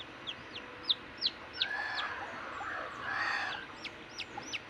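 Backyard chickens cluck and peep close by, a scatter of short chirping calls with a few louder clucks over quiet outdoor ambience.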